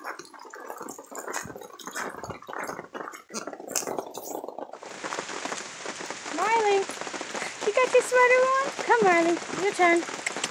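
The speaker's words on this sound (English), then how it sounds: "She don't like the rain." Rain patters steadily on surfaces outdoors, a dense hiss that thickens halfway through as wavering, howl-like dog vocalizations rise over it.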